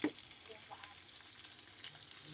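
Tilapia frying in a pan gives off a quiet, steady sizzle with faint crackles, soft and continuous with no talking.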